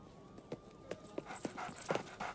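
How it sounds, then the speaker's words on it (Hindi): Dogs drawn to the smell of biscuits move about close by, giving faint, scattered patters, snuffles and soft panting in short, irregular bursts. "बिस्किट की खुशबू से कुत्ते आ गए हैं"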